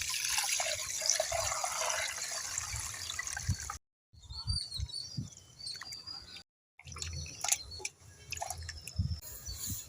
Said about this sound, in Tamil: அது கூட கரைச்சி வச்சுக்கிற புளி தண்ணியை ஊற்றிக்கலாம்